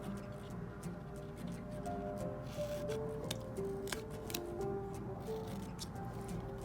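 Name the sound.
scissors cutting corners off paper treat bag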